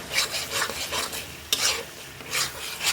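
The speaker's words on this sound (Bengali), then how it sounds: "ভেজে নেবো মশলাটা" Spices sizzle in a pan with dried and fresh chili, stirred in repeated scraping bursts roughly every half second, close and fairly loud with no voices.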